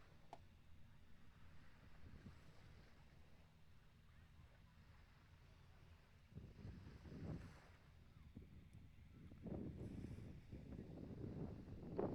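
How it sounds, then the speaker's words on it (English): Steady wind buffeting the microphone by the water at Jericho Pier dock in Vancouver, a continuous low rumbling roar that swells in gusts, with sailboats out on the choppy bay. "You can see there's quite a bit of wind here today."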